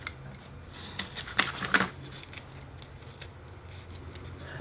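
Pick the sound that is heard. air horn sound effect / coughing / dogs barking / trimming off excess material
trimming off excess material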